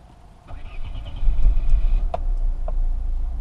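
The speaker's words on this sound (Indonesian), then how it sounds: "Kita hidupin mesinnya, ini nyala nih." A Peugeot 307 with an AL4 automatic gearbox has its engine started: a few clicks, a short starter crank, then the engine catches and settles into a low, steady idle close by.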